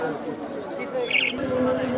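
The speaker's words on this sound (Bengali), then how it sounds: "এই রাস্তার চারপাশে এখানেও অনেক কবুতর আছে" Pigeons coo at a large open-air pigeon market in Khalishpur, Khulna, their soft calls mixed with a steady crowd murmur and nearby voices talking.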